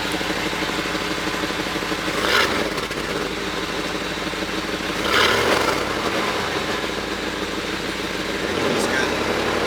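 A Chevrolet C1500 pickup fitted with a new muffler idles with a loud, throbbing exhaust drone, swelling in three brief blips of throttle.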